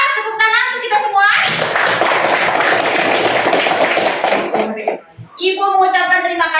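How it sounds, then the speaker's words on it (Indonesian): A class of children claps together after a school physical education lesson, a dense burst of hand claps lasting several seconds, with children's voices before and after it. "Tepuk tangan untuk kita semua."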